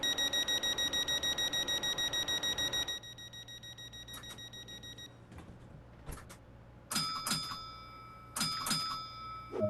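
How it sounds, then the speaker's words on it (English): The cab signal bell of a Class 465 train in Train Sim World 2 chimes in quick repeating bursts, first a rapid steady ringing, then several separate clear dings over a low hum. "You've got to love the signal bell on this"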